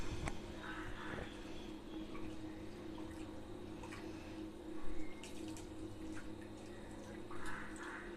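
Sago pearls are rinsed by hand in water in a bowl, giving soft swishing and irregular light splashes and drips over a steady low background hum.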